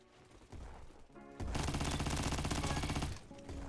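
Rapid automatic fire from a Kriss Vector submachine gun in Roblox Bad Business, a few short bursts followed by a sustained loud stream of fast shots, with no talking.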